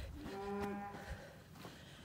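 Milk cows mooing on a farm at night after the evening milking, one long, loud, close moo with a rising tone, then a fainter second low call over steady outdoor background noise.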